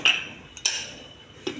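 A metal pressure cooker lid is set on the cooker, making a few sharp, close metallic clanks and clinks with a brief ringing in between.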